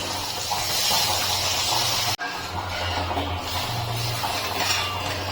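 Water poured into a hot pan of cabbage and peas, giving a loud, steady hiss and gushing steam throughout, with a brief drop midway before the hissing resumes.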